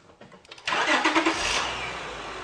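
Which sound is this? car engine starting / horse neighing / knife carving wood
car engine starting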